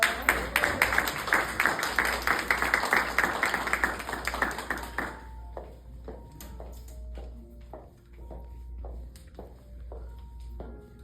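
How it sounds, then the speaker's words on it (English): An audience at a mental health speaker event bursts into dense, steady clapping for several seconds, then the applause breaks off and gives way to sparse taps and soft tonal notes. "Let's clap it up for her also."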